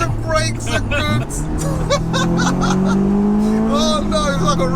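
Supercharged Honda S2000 with an HKS setup and 416 bhp, its engine revving high and rising steadily inside the cabin under near-constant excited talk from occupants.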